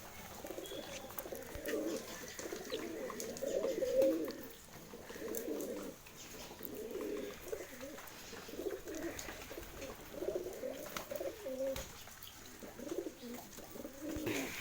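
Pigeons cooing, a pair of captive pigeons with clipped wings, repeated soft low throaty coos in a steady rhythm across the stretch, quiet and close, with faint background noise between calls.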